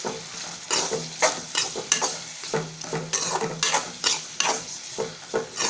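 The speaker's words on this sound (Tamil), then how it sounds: "தக்காளி வெங்காயம் நல்லா வதங்கட்டும்." Onion and tomato fry in a pan for a Tamil brinjal gotsu, with a spoon stirring through them in steady, repeated scrapes over a continuous close sizzle.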